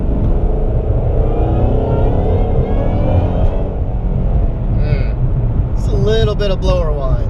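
A Ford Shelby GT500 accelerates hard on cold pavement, its engine roaring loud and near with a rising supercharger whine layered over the rumble, while people talk over it.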